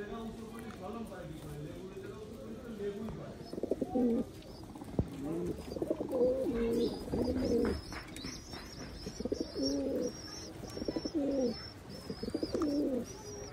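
Old-breed Khulna highflying pigeons, including a male, coo in repeated rounded phrases close by while someone talks over them.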